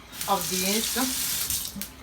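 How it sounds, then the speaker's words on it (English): A tap runs steadily into a sink with splashing and clinking as a spoon is rinsed, a voice faintly mixed in underneath. "let me rinse this spoon"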